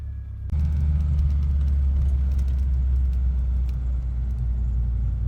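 A 1998 Isuzu Amigo with slightly loose alignment being driven, heard from inside as a steady low engine and road rumble that jumps louder after the first half second and holds evenly throughout.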